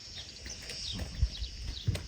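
A horse shifts about nearby, with a few soft hoof thuds and rustling movement, quiet overall, and light birdsong in the background.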